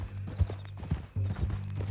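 Horse hooves clip-clopping in Red Dead Redemption 2: a few irregular hoof thuds close by, over a low steady hum with a brief whinny-like tone.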